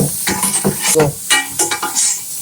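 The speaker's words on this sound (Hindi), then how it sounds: "इसमें चम्मच हिलाते रहना चाहिए जब तक जो है ना ये एक जैसे गोल्डन ब्राउन नहीं हो जाते" Chickpeas frying in hot oil while a spoon stirs them toward golden brown: close sizzling with repeated scraping and clinks of the spoon against the pan, rising and falling in short bursts.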